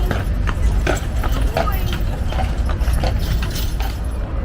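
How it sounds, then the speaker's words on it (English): Horse hooves clip-clop steadily as a horse pulls a carriage on a night tour through Savannah streets, the rhythmic hoofbeats continuous beneath a guide's talking and general street noise. "Tonight, we are going on a horse-drawn carriage ride through Savannah."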